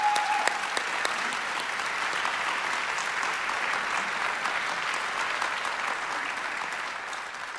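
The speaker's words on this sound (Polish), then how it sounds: "Brawa, wielkie." Sustained applause from an audience at an award ceremony for the laureates of a national vocal competition, honoring the volunteers, with steady dense clapping that holds at an even level throughout.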